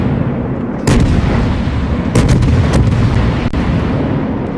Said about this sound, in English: fires high explosive and misses